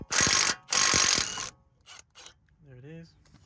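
Impact gun or ratchet removing front brake caliper bolts on a BMW 135i: two loud, near bursts of about half a second and one second, followed by quieter clanks and a brief voice.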